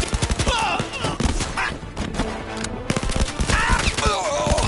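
Gunfire from the PSVR shooter Blood and Truth comes as rapid, loud overlapping bursts and volleys, with shouting mixed in.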